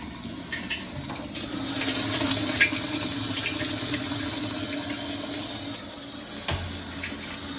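Hot water flows strongly through the inlet valve of a Whirlpool Maytag washing machine, making a steady hissing rush throughout, heard close up with no talking.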